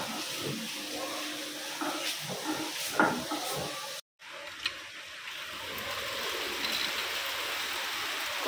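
Heavy rain sends water pouring steadily, a continuous dense rushing wash with a brief dropout midway, fairly close and with no voices.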